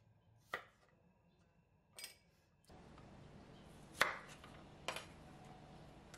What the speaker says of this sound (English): Cut 50 grams of peeled garlic into half onto smaller chunks.